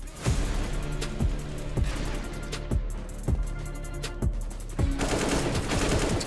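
Gunfire in a CS:GO match: single shots crack out at a steady rhythm of roughly one every second, loud and sharp over a constant bed of game noise and music.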